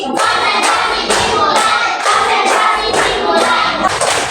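A class of primary school children clap hands together in a clapping game, producing loud, rhythmic bursts of claps repeating roughly twice per second throughout, with no talking.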